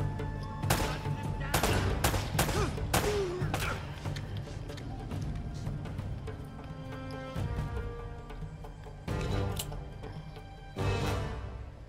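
Repeated bursts of gunfire in the Uncharted: Drake's Fortune video game, sharp shots arriving in clusters over steady game music and background noise, with a voice talking faintly.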